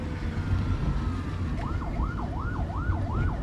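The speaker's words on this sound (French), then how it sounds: "on a une ambulance qui passe là" An ambulance siren wails on a street in Thailand, its rising and falling tone starting partway through over loud traffic rumble, fairly close and growing steady.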